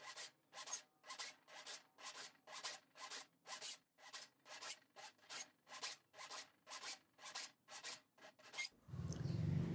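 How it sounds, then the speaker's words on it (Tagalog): A hand file rasps steadily across the teeth of a band saw blade to sharpen them, with about twenty even, rhythmic strokes close by, followed by a brief low rumble at the end. "Kaya medyo matagal yung paghahasa mga kaps ng talim ng banso."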